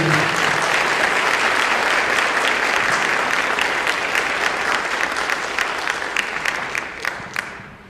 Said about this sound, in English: Can we recognize and appreciate our choir one more time with a round of applause?